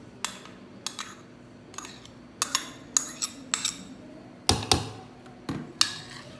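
Metal spoon clinking and scraping against a bowl while mixing chicken sandwich filling with mayonnaise and cheese, a run of sharp, close taps in irregular bursts with no talk.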